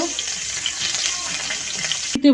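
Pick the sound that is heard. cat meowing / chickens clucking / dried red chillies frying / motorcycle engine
dried red chillies frying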